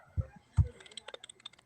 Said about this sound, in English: Is somebody typing right now?